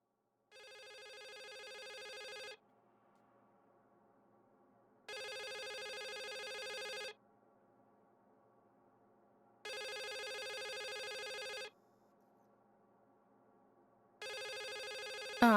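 Telephone ringing in the game The Suicide of Rachel Foster: four long electronic rings with even pauses between them, clear and alone against a faint low background hum.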